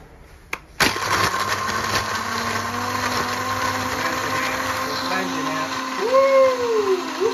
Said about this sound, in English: Ingredients are in the blender.